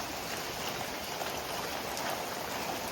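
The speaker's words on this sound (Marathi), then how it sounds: "मस्त पाऊस पडतो" Heavy rain falls steadily outdoors, a dense even hiss of drops that stays constant and close throughout, with no voices over it.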